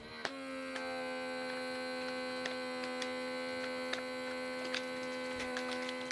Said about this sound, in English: it pulls the air out of the bag